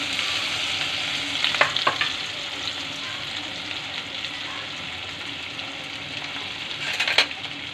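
Ginger-garlic paste fries in hot oil in a pan, making a steady, bright sizzle close by, with a few clinks of a spoon against the metal near the start and end, and no talking.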